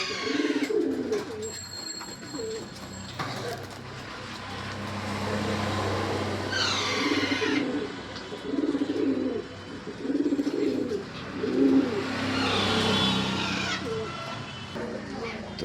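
Pigeons coo in a regular run of soft, low calls, close by at a pigeon shop, with faint traffic and a few higher bird notes behind.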